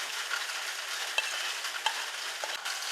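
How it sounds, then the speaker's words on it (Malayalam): Vegetables fry in hot ghee for hotel-style fried rice, giving a steady close sizzle with a few sharp scrapes or stirring clicks, no voices. "ഇതിലേക്ക് നമുക്ക് നമ്മുടെ വെജിറ്റബിൾസ് ഇട്ട് കൊടുക്കുന്നു"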